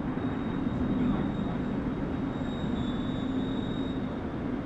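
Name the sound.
moving train in Medal of Honor: Underground video game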